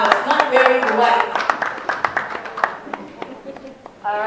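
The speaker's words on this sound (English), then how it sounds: "let's give him a round of applause" An audience at a Lagos gathering gives scattered applause for a lawyer. A voice speaks at the start, then sparse, uneven claps follow with gaps between them, fading before more talk begins.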